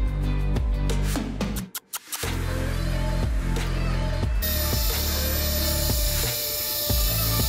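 Rough, rhythmic scraping of 120-grit sandpaper on wood, close and loud, with repeated back-and-forth strokes and a brief pause partway through.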